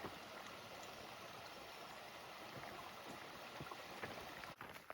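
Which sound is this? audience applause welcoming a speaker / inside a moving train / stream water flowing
stream water flowing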